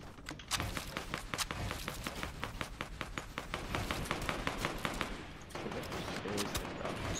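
Rapid gunfire from enemy AI soldiers in a shooter video game, a steady stream of sharp automatic shots and bursts filling the clip, loud and close with running footsteps mixed in.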